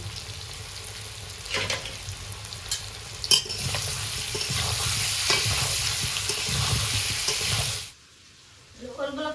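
Meat and elephant foot yam fry in a pan with a steady, loud sizzle and occasional stirring scrapes, then the sound cuts off to near quiet with faint clatter.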